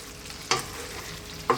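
Spoon stirring Parmesan cheese into a chicken cream sauce in a pan with the heat off, two quick scraping clicks about a second apart over a low background hiss.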